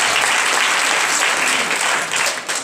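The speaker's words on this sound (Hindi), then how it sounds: "उनके लिए ताली बजाइए।" A short burst of audience applause at a Hindi church sermon, dense steady clapping that fades slightly at the end.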